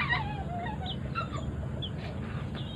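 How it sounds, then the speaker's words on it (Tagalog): Several chickens cluck and chirp in short, scattered calls over a low background rumble, fairly close by. "Ito ang mga manok."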